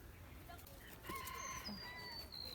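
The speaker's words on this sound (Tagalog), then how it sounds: "Sabi sa'yo manok yun eh." A chicken calls outdoors at a farm, a few short high clucking and crowing notes heard under people talking, with other bird chirps and rustling around.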